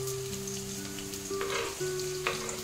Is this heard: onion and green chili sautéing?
yes